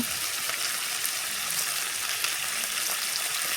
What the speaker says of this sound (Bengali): এখন সাজনাটা আলুটা টমেটোটা আগে ভেজে নেবো, হলুদ নুন দিয়ে ভালো করে ভেজে নেবো